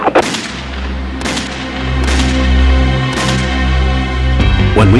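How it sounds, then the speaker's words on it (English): Gunshots fired at a pursuing police car: a string of sharp, loud cracks spread over a few seconds over a steady engine rumble, with the final shot close and harsh. "Shots fired, Gina, shoot, Mary! Shot through the windshield!"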